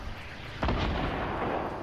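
Gunfire in a Fortnite match: a single sharp burst erupts partway through, followed by a sustained rumbling, crackling wash of shots and echoes that stays loud to the end, with no talking over it.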